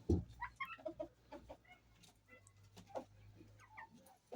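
Hen clucking softly nearby: a string of low, irregular clucks and murmurs, fairly faint, after a brief thump at the start.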